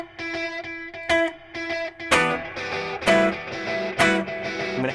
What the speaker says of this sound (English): going to add even more gain on the amplifier. And you're really making the delays distort